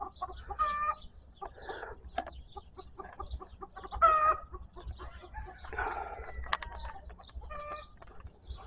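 Native chickens cluck in a rural yard in hot weather, with intermittent close clucks and short crowing-like calls over a low, steady background hum.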